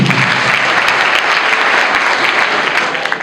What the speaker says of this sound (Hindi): मेरी बेटी के लिए ताली बजा दो एक बार।